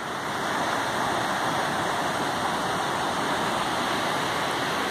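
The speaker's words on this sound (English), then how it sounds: "that roaring sound in the background is the creek that's just down this ravine." Creek roaring down a ravine in a snowy forest, a steady broadband rush of water heard from a short distance, constant and unbroken, with no talking.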